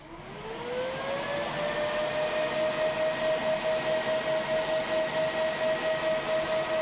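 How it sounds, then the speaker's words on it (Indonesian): A cooling fan in a 140-watt four-channel OCL amplifier runs loudly and steadily, a sustained whir with a rising tone at start-up that then holds, alone with no talking. "Kipasnya lumayan sangat kenceng ya."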